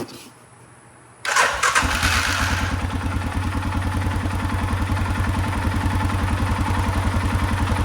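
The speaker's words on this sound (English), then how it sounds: "Let's go ahead and crank her up together in case she blows up." An Arctic Cat Mud-Pro ATV under restoration cranks briefly, catches and fires, then settles into a loud, steady, rapidly pulsing idle close by, with no talk.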